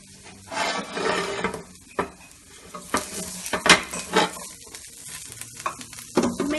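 Pieces of mutton frying in a hot pan for a mutton pepper fry, sizzling steadily while a utensil stirs and scrapes them with clattering knocks, near and fairly loud throughout.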